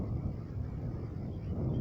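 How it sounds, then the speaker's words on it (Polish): Steady outdoor wind from the west rushes and buffets against the microphone, a dense low roar without clear breaks or voices. "Znów się ten wiatr zrywa."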